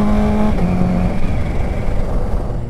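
A motorcycle accelerates hard while being ridden, its engine note loud and close, rising in pitch before settling into a steady roar with wind noise and no talking.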